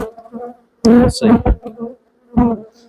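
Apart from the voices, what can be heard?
honey bees buzzing around hive frames during swarm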